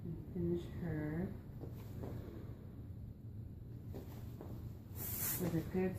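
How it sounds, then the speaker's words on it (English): A couple of hissing spray bursts of Awapuhi Wild Ginger hair finishing spray, the strongest near the end, with a person talking around them. "with a good spraying of our Awaphui Wild Ginger finishing spray"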